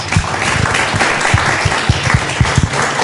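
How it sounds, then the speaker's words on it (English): A live audience at a reading event claps together, a steady, fairly loud wash of applause with some distinct sharp hand slaps standing out near the listener. "Give yourselves a round of applause."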